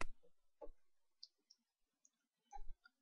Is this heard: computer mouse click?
yes